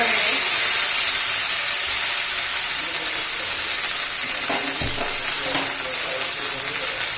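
Chickpea greens hit hot oil in a wok and set off a loud, dense sizzle and hiss that carries through the whole stretch, with a few soft stirring knocks partway in.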